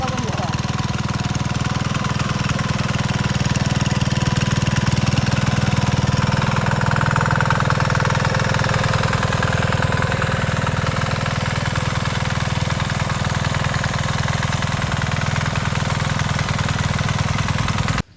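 A large engine pumping water up to a paddy field, droning steadily and loudly at a constant pitch throughout, with faint background voices.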